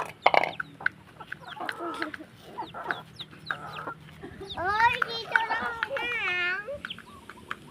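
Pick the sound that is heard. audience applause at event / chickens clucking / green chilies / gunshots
chickens clucking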